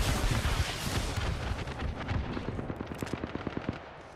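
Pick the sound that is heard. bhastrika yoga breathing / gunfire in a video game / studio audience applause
gunfire in a video game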